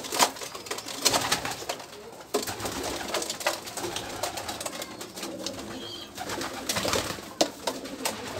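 Pigeons coo repeatedly around feeding time, their low throaty calls mixed with rustling and scattered sharp sounds, fairly close amid a busy background.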